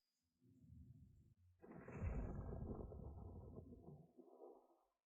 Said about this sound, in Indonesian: Mungkin hanya kebetulan ada petir.